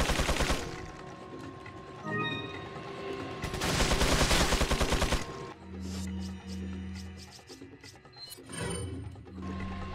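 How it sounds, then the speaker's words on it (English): Enemy gunfire in Resident Evil 4, with loud bursts of rapid automatic fire in two long volleys and then scattered shorter shots and mechanical clatter. "I think I heard him just start firing."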